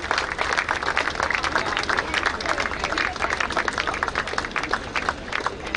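An audience at a badminton tournament prize distribution applauds steadily, a dense, continuous clatter of many hands with a faint murmur of crowd voices underneath.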